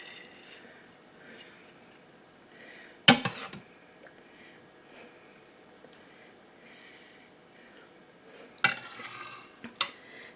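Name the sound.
scooping cooked rice from Instant Pot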